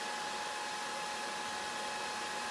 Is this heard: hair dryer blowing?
yes